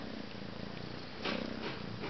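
A six-month-old kitten purring close by, a soft continuous rumbling purr that swells slightly louder partway through.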